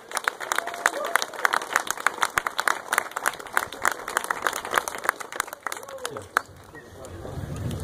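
Audience applause at a political rally held in a barn venue, scattered clapping from a modest crowd with irregular sharp claps and murmuring voices, tapering off toward the end as the room quiets.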